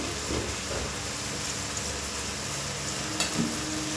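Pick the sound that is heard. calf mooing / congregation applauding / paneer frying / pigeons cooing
paneer frying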